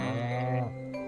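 A farm cow in the video game Stardew Valley lets out a single long, loud moo, then the call cuts off with a short quieter tail, heard alone without talk.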